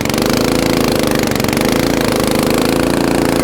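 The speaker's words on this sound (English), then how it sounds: "This is such a lightweight snowblower." An Ariens Compact 24 snowblower runs steadily and loud up close, its engine droning with a rough, buzzing pulse while it throws snow.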